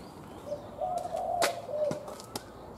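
A bird coos inside a car, a quiet, drawn-out low coo with a couple of sharp clicks and taps around it, heard close in an otherwise hushed space.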